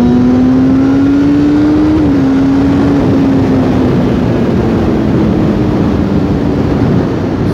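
A Kawasaki Z1000 motorcycle accelerates hard. The engine drones loudly and continuously with a rising pitch, a brief dip, then a smooth climb under heavy wind rush, and no voices are heard.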